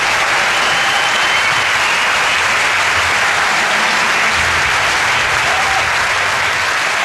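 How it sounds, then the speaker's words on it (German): A lecture audience breaks into loud, sustained applause for a speaker at an academic talk on operetta, a dense steady wash of clapping that carries on evenly for several seconds. "Einen großen Applaus"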